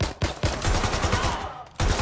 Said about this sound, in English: I've heard shots!